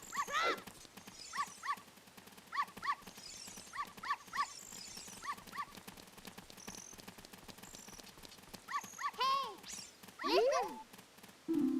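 Dogs in The Legend of Zelda: Ocarina of Time bark a few times near the end, after a run of rhythmic clip-clop steps and game sound effects.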